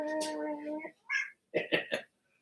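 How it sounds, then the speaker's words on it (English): A cat gives a drawn-out, tonal meow close by, then short chirping calls follow in a quiet indoor space. "We got the cat out here."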